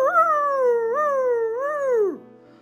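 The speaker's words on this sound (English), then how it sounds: "Then, just outside on the hill, there was a long, eerie howl." A single long, eerie coyote howl rises, wavers in two swells and then drops away at the end, clear and alone outside on a hill.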